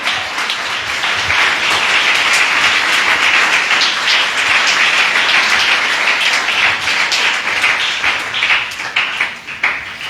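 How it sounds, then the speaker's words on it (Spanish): A church congregation applauding during a service, dense sustained clapping from many people at a steady loud level for the whole stretch, with faint voices underneath. "dele un aplauso al Señor"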